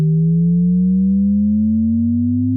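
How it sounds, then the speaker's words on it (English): A smooth pure tone glides slowly upward in pitch as an infinite riser made in Ableton, steady and loud, with a gentle wavering pulse throughout. "It's a rising sound."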